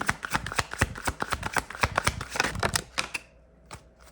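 A rapid, rippling flutter of tarot cards being shuffled, close and crisp, lasting about three seconds before a brief quieter riffle at the end.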